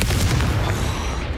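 The Confringo explosive spell from Hogwarts Legacy goes off as a single booming blast with a rough, crackling burst that fades over about a second.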